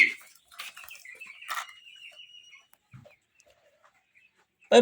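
Broiler chickens clucking in a farm shed, several short close clucks and squawks in bursts, then a quiet gap and one loud cluck at the end.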